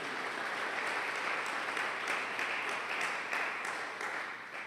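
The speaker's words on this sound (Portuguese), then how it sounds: "comece a aplaudir o Senhor nessa noite aí" A church congregation applauds during a worship service, with steady, dense clapping filling the room at an even level throughout, no voices standing out above it.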